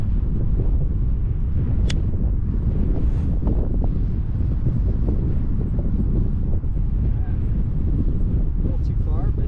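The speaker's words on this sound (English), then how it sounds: "Tough wind today, you know?" Strong wind buffets the microphone on a golf course, a constant loud rumbling roar across the whole stretch with no let-up.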